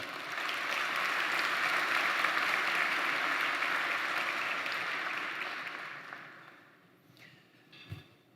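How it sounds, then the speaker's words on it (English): Applause from a banquet audience at an annual dinner, a dense sustained clapping for about six seconds that fades out, with a faint voice and a brief thump at the end. "I think that deserves a round of applause."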